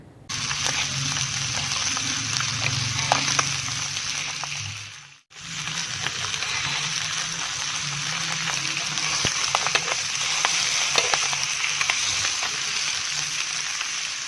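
Dolla fish frying on a tawa over low heat gives a steady, close sizzle with soft crackle, broken by one brief quiet gap partway through before the hiss resumes.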